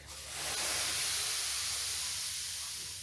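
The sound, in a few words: steam iron hissing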